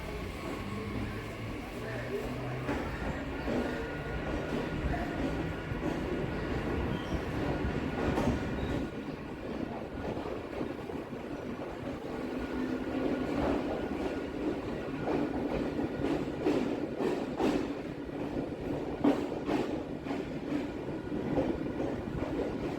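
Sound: Kolkata local train running, Barrackpore to BBD Bag

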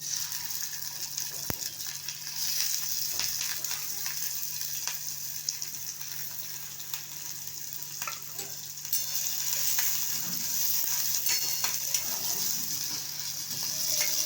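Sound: onion and curry leaves frying in hot oil

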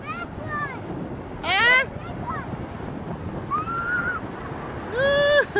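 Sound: ocean waves breaking

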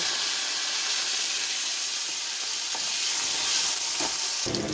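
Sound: drumstick (moringa) pieces frying in oil

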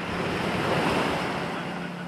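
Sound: ocean waves at sea off Mindanao

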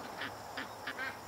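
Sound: ducks quacking

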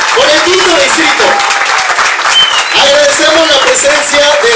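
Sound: crowd applause

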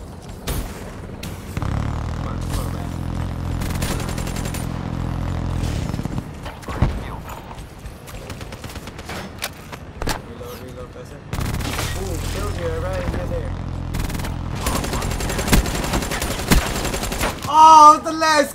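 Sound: gunfire in Black Ops 3 video game

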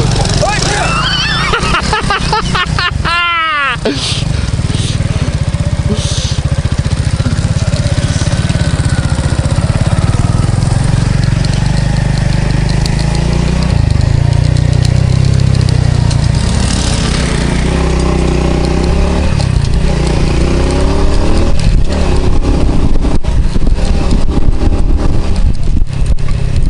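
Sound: sport motorcycle engine running and revving

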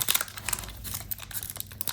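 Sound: opening a Pokémon booster pack wrapper

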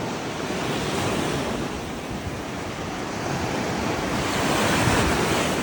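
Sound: sea waves and wind

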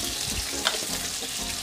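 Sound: onion sizzling in a pan over medium heat

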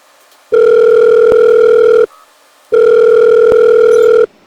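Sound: telephone dial tone while calling someone

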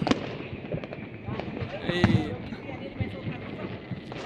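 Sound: New Year's fireworks exploding

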